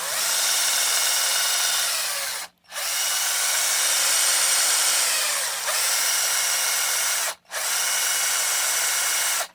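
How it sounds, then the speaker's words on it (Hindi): A power drill spins a salvaged 775 DC motor with a loud, close, high whirring whine, running in three long stretches separated by two brief stops. "देखो मोटर तो अच्छे से ड्रिल के साथ घूम रही है, कहीं पे कोई दिक्कत नहीं आ रही है"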